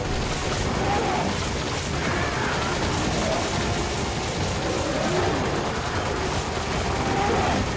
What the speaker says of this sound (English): shoot the guys shooting at us